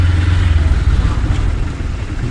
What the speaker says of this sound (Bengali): আজকে আবার বাইরে এলাম বাইকটা নিয়ে